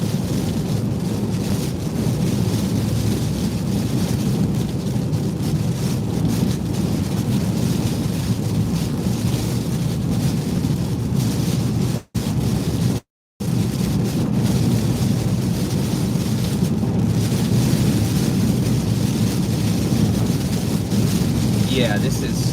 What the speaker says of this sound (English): definitely a lot more windy